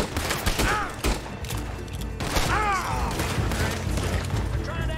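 Rapid gunfire fills a Red Dead Redemption 2 story-mode scene, sharp repeated shots over a constant low rumble of action, with several bursts crowding together and no break in the din.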